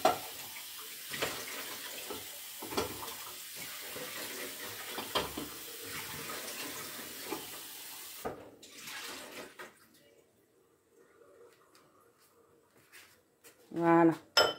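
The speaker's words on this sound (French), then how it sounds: "Donc là, je préfère rincer ces olives." Olives rinsed under a running kitchen tap for a garnished salad, a steady splashing stream that stops partway through, followed by quiet and a few close clinks and rustles.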